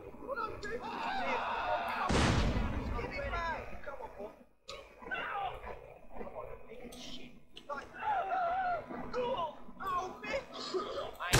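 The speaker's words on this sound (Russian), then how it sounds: "А, граната." A grenade goes off in GTA San Andreas: one loud, sharp burst with a short rumbling decay, set amid continuous game noise and someone talking over it.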